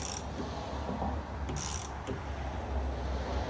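A bolt being tightened on the window regulator of a 2011-2015 Chevrolet Cruze, giving faint mechanical ratcheting clicks close by under a constant broadband hiss.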